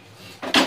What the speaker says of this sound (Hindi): मैं इसमें डायरेक्ट गाजर जो है वो डाल रही हूं।